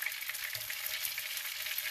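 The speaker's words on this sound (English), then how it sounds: "When you hear that sizzle," Pieces of sourdough pasta deep-fry in hot oil, a continuous near hiss of sizzling studded with small sharp pops, heard alone without talk.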